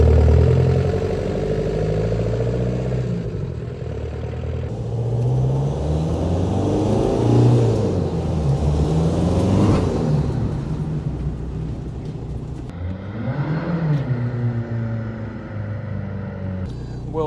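A SEAT Ibiza Cupra 1.9 TDI PD diesel is driven up and down an industrial estate, its engine droning loudly and rising and falling in pitch as it accelerates, eases off and revs again, heard from inside the car.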